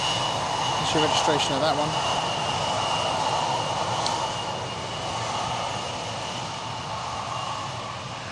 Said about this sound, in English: Brilliant wave from the Embraer through there, KLM City Hopper.